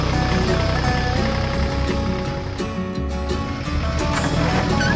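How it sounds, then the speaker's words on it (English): Tractor engines roar steadily and loudly as the machines start off, a continuous heavy rumble with harmonic drone and clattering ticks, no talk over it. "Both machines, ready for action, started off with the roar of their engines."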